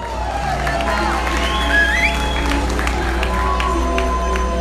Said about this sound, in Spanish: Vamos a brindar un fuerte aplauso para Jairo Huerta.